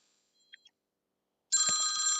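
A phone repair shop's telephone starts ringing loudly after near silence, a steady electronic trill that runs to the end.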